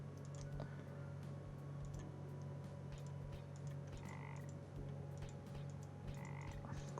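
Frog croaks from the Legends of Idleon video game, a few short croaking calls repeating over a steady game soundtrack with constant low hum and light ticking clicks.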